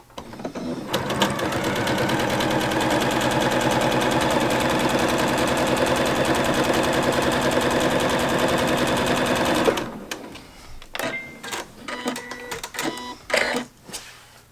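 A sewing machine stitches a seam joining fabric pieces for a quilt hanging sleeve, a steady rapid mechanical clatter running loud for about nine seconds, then stopping and giving way to scattered handling clicks and rustles.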